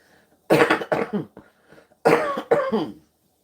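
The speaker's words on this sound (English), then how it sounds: "I will eventually get rid of this cough and the itching" Two clusters of harsh, wet coughs, close and loud, with short pauses between bursts and quiet breathing in between.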